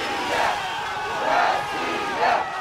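A pro-Russian crowd in eastern Ukraine shouts in rising chant-like waves, three swelling bursts over a steady roar of many voices, heard from some distance.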